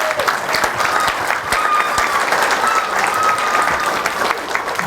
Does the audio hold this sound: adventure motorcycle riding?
no